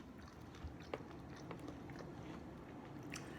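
Quiet, close chewing and biting of Hungry Lion fried chicken during a South African mukbang, with soft crunches and irregular mouth sounds over a low, steady room hum.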